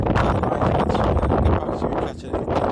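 Strong wind buffets the microphone on a riverside fishing session along the Mersey, a continuous low rumbling roar with gusty swells throughout.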